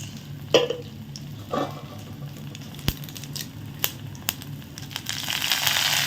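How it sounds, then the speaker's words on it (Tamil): Mustard seeds sizzle steadily in hot oil with a few sharp pops and crackles scattered throughout, and the hiss grows louder toward the end. "இப்போ நம்ம தாளிக்கிறதுக்கு எண்ணெய் ஊற்றிப்போம் அடுத்து கடுகு போட்டுப்போம்"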